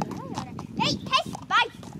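A horse being ridden walks with steady clip-clop hoof beats close by, while people talk over it throughout.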